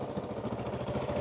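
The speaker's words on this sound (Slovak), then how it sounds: "Bez emocí, toto je výfuk určite." A newly bought motorcycle idling through its new exhaust, a steady close mid-pitched engine rumble with light mechanical clatter running evenly throughout.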